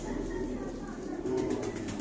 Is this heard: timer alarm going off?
no